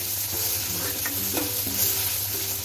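Ginger and garlic frying in a little oil for a jackfruit curry, a dense, even sizzle with a soft spoon scrape or two, close and constant, no speech.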